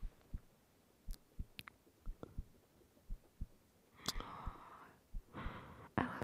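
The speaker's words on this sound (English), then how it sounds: "You get to feel my heartbeat all night." A soft, close heartbeat in a quiet ASMR cuddling scene, with faint low thumps at irregular spacing and, later, breathy exhales that rise and fall.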